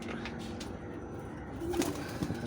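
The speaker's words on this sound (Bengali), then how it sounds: "এই যে কবুতরগুলা" Pet pigeons cooing softly and steadily, with faint fluttering and a brief louder call near the end, heard close by with no talk.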